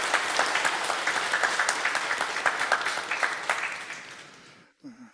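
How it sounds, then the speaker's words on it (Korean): A church congregation gives a warm round of applause at a Sunday service, dense and steady for several seconds, then fading out and stopping, followed by a brief voice. "우리 하나님 앞에 영광의 박수 한 번 더 드리겠습니다"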